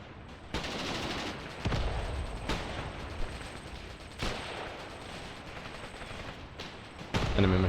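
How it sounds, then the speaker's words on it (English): Machine gun fire in the war game Mius Front rattles in sustained dense bursts against constant battle noise, punctuated by sharper shots and a louder volley at the end. "Enemy machine gunner can be firing from it, can be seen firing from there."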